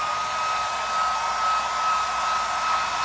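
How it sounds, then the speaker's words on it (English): Hair dryer on low-to-medium heat blowing steadily over a fresh acrylic pour painting with silicone, a continuous close whooshing airflow with a thin steady whine, no voices. "Hair dryer, medium heat or low heat, just whatever's not cool on low."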